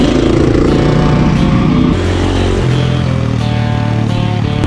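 Motorcycles of other riders overtaking during the Yamaha Motorshop Desert Challenge 2022 desert rally, a loud, close, continuous engine drone with a shifting pitch and no speech.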